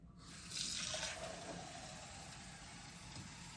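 Cold tap water from an MK-99 under-sink filtration system runs steadily into a container, a continuous close rushing that swells briefly at the start and then holds even as the vessel fills.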